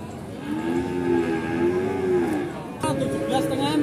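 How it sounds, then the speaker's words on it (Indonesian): Feeder cattle at the Pasar Wage livestock market in Pati give a long, loud, low moo lasting over two seconds, followed by the start of another moo near the end of the clip. "Yang ini sapinya."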